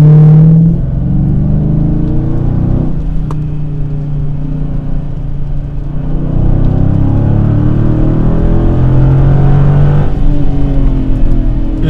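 A Dodge Challenger SRT8's 477-horsepower V8 engine roars loudly and steadily at high revs, around 4000 rpm, its deep rumble swelling and easing as it pulls through gears, with no voices.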